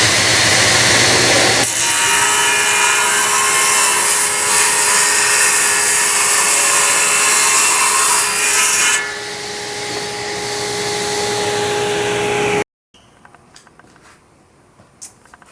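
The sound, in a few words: saw blade tilted 2.5 degrees cutting a bevel in a wooden block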